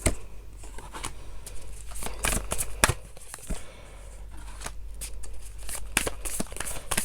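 A deck of tarot cards is shuffled by hand nearby. Crisp papery riffles and slaps come in short bursts with brief quiet gaps between them.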